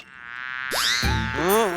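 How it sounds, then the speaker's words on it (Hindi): A buzzing fly rendered as a cartoonish, loud effect in a Hindi fantasy TV show, a steady whine that swoops and bends in pitch, with a sharp wobbling zip at the end and no talk. "आ गई ये मक्खी, मुझे फिर से परेशान करने चला"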